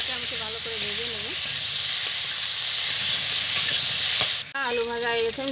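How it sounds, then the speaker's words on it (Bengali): Potatoes seasoned with salt and turmeric fry in a pan with a loud, constant hiss and sizzle, close up, while a faint tonal whine sounds in the background, then briefly cuts out near the end. "আলুটাকে আমি একটু ভালো করে ভেজে নেব।"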